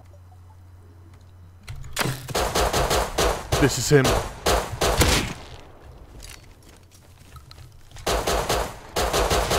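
Gunfire in the survival video game Rust crackles in rapid bursts, including shotgun blasts, in two loud clusters separated by a quieter stretch, with someone speaking briefly.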